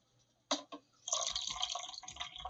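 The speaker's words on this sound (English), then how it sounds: "I'm going to add a little bit more water." Water poured from a vessel into a tomato paste mixture for vegetable dolma, two short splashes and then a steady trickling, splashing stream close by.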